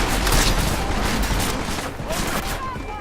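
Gunfire erupts in the video game Deus Ex Mankind Divided, a loud dense fusillade of rapid shots with booming impacts that gradually thins out.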